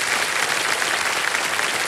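Steady, dense audience applause fills a TV quiz show studio, loud and continuous with no pauses and no talk over it.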